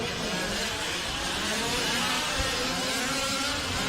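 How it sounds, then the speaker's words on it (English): Several 1/5 scale gas-powered RC race cars buzz together through a bumpy whoop section of a West Coast Nationals track, a steady dense engine drone at moderate distance with no voices. "A gaggle of cars going through the whoop section."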